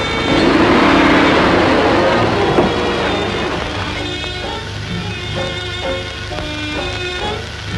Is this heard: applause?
no